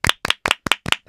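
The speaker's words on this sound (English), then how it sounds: "Clap." Six crisp, close hand claps in an even, quick rhythm, each sharp and isolated with silence between.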